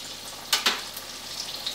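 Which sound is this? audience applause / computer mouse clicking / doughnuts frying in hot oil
doughnuts frying in hot oil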